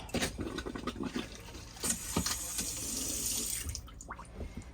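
Tap water runs into the sink of a 2016 Hymer ML-T 580 motorhome, a close, steady splashing stream that lasts throughout with small gurgles near the end.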